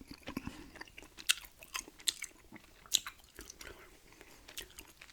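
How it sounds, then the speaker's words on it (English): Close, wet chewing of gum with irregular smacks and clicks over a few seconds, loud against a quiet background with no words spoken. "some hand motions and gum chewing and rambling here today"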